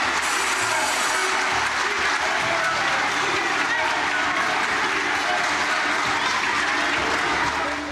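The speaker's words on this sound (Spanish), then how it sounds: "Los aplausos de los ministros se mezclaban con los gritos de los congresistas opositores." Ministers in a congressional chamber applaud in a dense, sustained wash of clapping, loud and continuous, mixed with crowd noise and shouting voices throughout.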